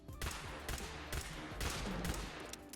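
Standard pistol shots fired at a Deathclaw in Fallout 4, a rapid run of sharp reports spaced roughly every half second, loud and close with game ambience underneath.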